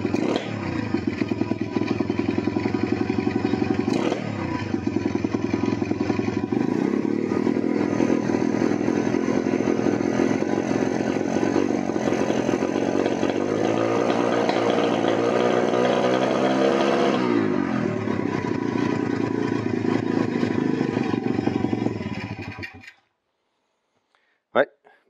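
A motorcycle engine idles steadily after starting, loud and close, a continuous rumbling drone that runs for over twenty seconds before cutting off, with a couple of brief clunks after it dies.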